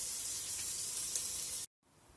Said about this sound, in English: let the bacon cook down a little bit so it kind of crisps up